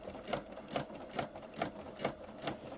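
A sewing machine stitches slowly around a coiled jelly roll rug, its motor sounding in steady, evenly spaced bursts about twice a second, close and moderately loud with no voices.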